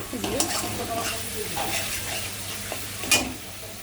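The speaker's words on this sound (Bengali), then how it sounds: "পেঁয়াজ লঙ্কা হলুদ একসঙ্গে আমি ভেজে নিব তেলের উপরে" Onion, chili and turmeric frying in hot oil while cooking prawn malai curry, a soft steady sizzle with occasional stirring scrapes and a sharp clink near the end.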